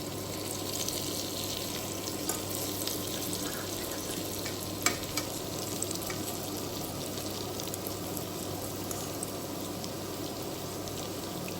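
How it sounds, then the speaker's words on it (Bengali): Raw banana kebabs fry in a pan with a steady, close sizzle and light crackle that runs unbroken throughout, with a few soft clicks and no talk. "এক সাইড যখন ভালোভাবে ভাজা হয়ে আসবে তখন উল্টিয়ে অপর সাইডটাও ভালোভাবে ভেজে নিতে হবে"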